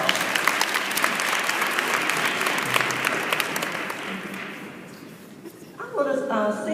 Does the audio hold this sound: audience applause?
yes